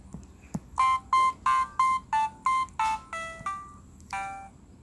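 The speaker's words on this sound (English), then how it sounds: "So, is your phone ringing, honey?" A phone rings in a Toca Boca game as a series of nine short, bright electronic tone bursts in quick, even succession, each a slightly different pitch, heard clearly and alone after a couple of soft taps.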